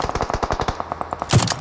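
Rapid automatic gunfire from a PUBG Mobile match, a quick burst of evenly spaced shots followed by a few slower rounds and a sharper crack near the end, loud and close with no talking.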